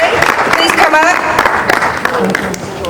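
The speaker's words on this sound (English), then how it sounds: "let's still give her a round of applause" A crowd at a book launch party claps in steady applause that fills the room, with voices and cheers mixed in.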